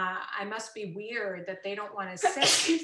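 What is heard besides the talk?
sneeze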